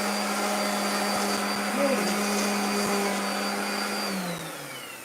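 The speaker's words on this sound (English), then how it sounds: "I think that sander's going out" An electric sander running on a carved wooden stencil sign, its motor holding a steady whirring hum with a faint wobble, then dropping in pitch and winding down near the end as if failing.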